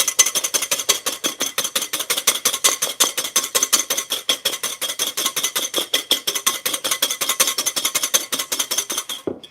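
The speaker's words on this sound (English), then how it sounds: "if you're whisking by hand, you don't want to whisk with your wrist because you'll fatigue too quickly" A whisk beats meringue by hand in a bowl, giving a fast, steady run of close, bright metallic clicks and scrapes against the bowl, rhythmic and continuous with no talking.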